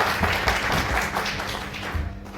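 An audience at an Indian talent award ceremony claps steadily, a dense, even wash of many hands filling the hall from start to end.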